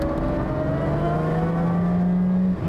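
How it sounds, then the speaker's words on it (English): Lamborghini Miura S engine rising in a short throttle blip, a loud, close, climbing rev that swells smoothly over a couple of seconds, then cuts off sharply at the end. "Engine's keen, to say the least. That was a whisker of throttle."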